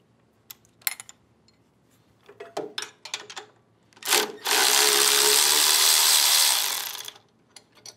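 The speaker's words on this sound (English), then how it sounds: "I'm just going to loosen up these stainless clamps on top." A power driver loosening stainless steel clamps on a GrowoniX GX1000 water filter while changing the membrane: a few scattered clicks and taps, then a steady whirring run of about two and a half seconds, close by with no talking.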